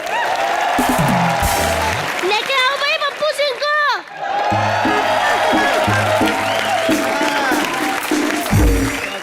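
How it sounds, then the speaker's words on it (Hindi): Studio audience on a Colors TV comedy show, Comedy Nights Live, applauds and cheers loudly and steadily, with whoops and shouts, while a host's amplified voice talks over it and music stings cut in. "चिंटू शर्मा के लिए जोरदार तालियां।"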